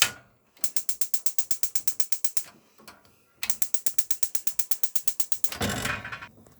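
A gas hob control knob on a Bailey Unicorn Madrid caravan cooker gives two long runs of rapid, even ratcheting clicks, close and crisp, with a short pause between them and a brief rushing burst at the end.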